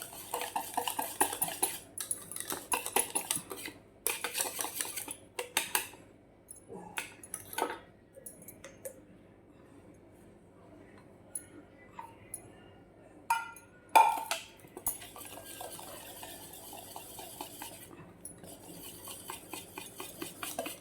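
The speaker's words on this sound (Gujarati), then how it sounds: "હવે આપણે બરાબર મિક્સ કરી દેવાનું છે" A spoon scrapes and clinks against a bowl while mixing khaman dhokla batter, in irregular bursts with brief pauses, close and fairly loud.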